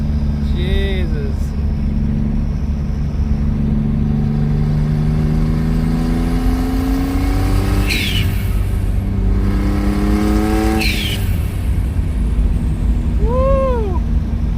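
A twin-turbo V6 Mustang engine revs repeatedly, its pitch climbing and falling in several sweeps with a sharp burst at the top of two rises, loud and close over a steady rumble, with a voice talking and exclaiming over it.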